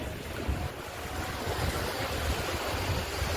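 Sea waves at Dahanu beach form a continuous rough wash of surf mixed with heavy wind buffeting, steady and fairly close, with no voices.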